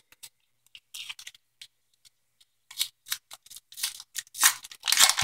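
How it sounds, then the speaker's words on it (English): A bar of Arko soap being unwrapped from its paper: scattered crisp crinkles and rustles, sparse at first, then denser and louder toward the end, close up with no talking. "You just unwrap it."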